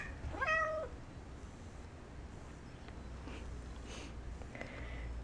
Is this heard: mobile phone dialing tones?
no